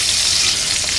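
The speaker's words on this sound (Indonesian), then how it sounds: "niki digoreng kemawon nganti empuk." Food frying in a pan gives a loud, steady sizzle that hisses without a break, close up, with no voices.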